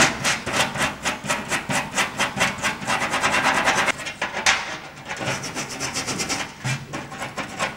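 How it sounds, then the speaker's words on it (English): Steel wool and a wire brush scrub rust from old furniture hinges, catches and handles in steady rapid strokes, a dense rhythmic scratching that pauses briefly partway through, close and fairly loud. "I steel wooled and wire brushed the hinges, catches and handles and to clean off any rust."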